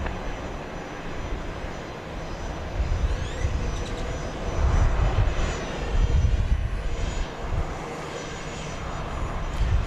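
A Southwest airliner lands on runway 31 left at Dallas Love Field, its engines a steady, broad roar that swells and fades slightly, heard from a distance with no voices.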